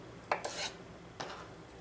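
A F. Dick 6-inch Kullenschliff utility knife slices a vegetable very thin, giving a few quick, crisp rasping cuts close up, spaced apart in a quiet room.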